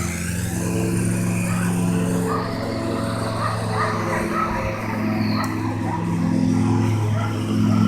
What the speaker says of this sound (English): The sound you hear is a lawnmower behind us